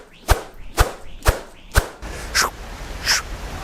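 A Yonex Nanoflare badminton racket cuts through the air in six swings: four sharp, loud whooshes with a snappy crack, then two softer, higher hissing swishes, all close and with no talking.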